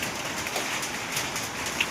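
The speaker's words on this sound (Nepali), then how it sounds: "यहाँ माथिबाट पात्तुर झर्दैछ है" Large hailstones fall from the sky in Bhutan, making a dense, steady pattering hiss that lasts throughout, close and fairly loud, with no voices.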